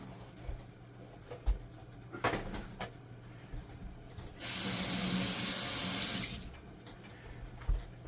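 A kitchen tap runs for about two seconds to rinse out a jar, loud and close, with small clinks and handling knocks before and after.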